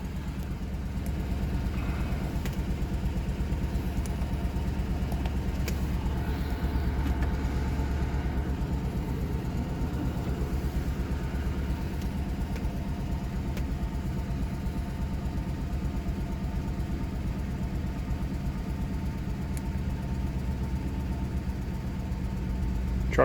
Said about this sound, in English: Truck feels like it's running a little smoother too. Now we got all 8 coils firing.